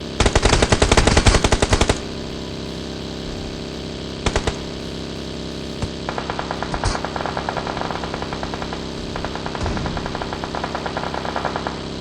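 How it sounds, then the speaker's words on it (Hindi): Gunfire in the mobile game PUBG Mobile (BGMI): a loud rapid automatic burst at the start, then scattered single shots and a long stretch of quieter, steady distant firing. "जब हम शेल्टर पे होते हैं तो वहाँ पर गोलियाँ चलने की आवाज़ आती है"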